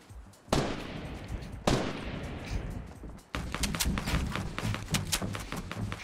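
Loud video game gunfire: two heavy booming shots with long decays, then a rapid sustained burst of automatic fire, close and dominant with no talking.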